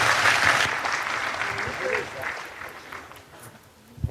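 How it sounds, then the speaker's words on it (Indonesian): An audience at a talk applauds. The clapping is loud and dense at first, then fades to a steadier, thinner patter that tails off with a few late claps. "kita persilakan tepuk tangan untuk Pak Muzamil 10-15 menit."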